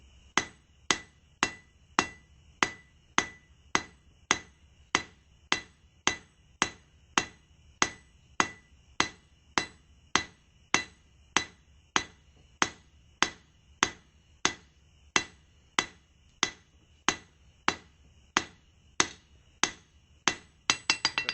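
A blacksmith's hammer forges a taper on the hook end of a fire poker, sharp ringing metallic strikes repeating at a steady, even pace, about one and a half per second, loud and close with no talk.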